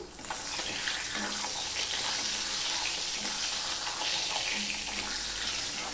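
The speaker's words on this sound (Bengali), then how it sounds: "প্রথমে মাছগুলো আমি ভেজে নেব, মাথাটা দেব না।" Fish sizzling as it fries in hot oil in a pan, a dense continuous crackle and hiss with faint spatters and occasional soft clinks, steady and close with no talking.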